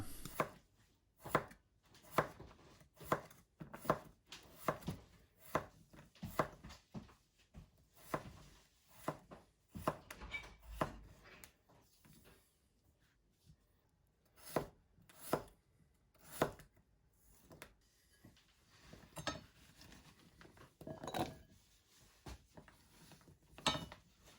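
A knife chops through potatoes on a board for a Spanish tortilla de patatas, with sharp, regularly spaced cuts repeating close up and a brief lull partway through. No one talks.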